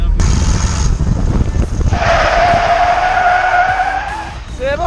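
A jeep brakes hard with tires skidding on the surface, a loud sustained screech rising midway over rumbling engine and road noise, close to the microphone.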